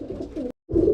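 Pigeons cooing in a loft, a soft continuous low cooing with a brief silent break, close and fairly loud.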